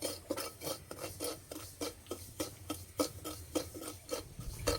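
A spoon scrapes and stirs semolina being dry-fried in a pan, a quiet, close run of regular rasping strokes about twice a second, with no voice over it.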